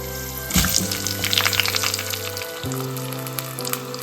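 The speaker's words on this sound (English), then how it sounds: "Onto the same oil, red onions, rough cut," Rough-cut red onions fry in oil in a pan for a Sri Lankan okra curry, with a lively close sizzle and bubbling that jumps up as they go in, over steady tonal background music.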